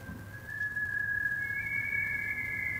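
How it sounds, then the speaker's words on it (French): A steady, pure whistle from a homemade electronic bird synthesizer holds one pitch, then a second tone joins higher, over a low background hum; no voice. "c'est un synthétiseur à oiseaux que j'ai fabriqué"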